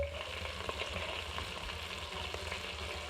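Sausages frying in an Instant Pot for bangers and mash, a steady low sizzle and crackle heard close and quiet, with occasional faint stirring.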